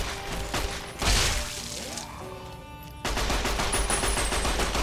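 Rapid gunfire from the video game Fallout: New Vegas, with bursts of shots, a sharp crash near the start and a renewed stretch of repeated firing after a brief lull.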